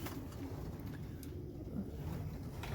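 Racing pigeons in a loft, young birds, with soft low cooing that runs steadily through the clip over a constant background rumble.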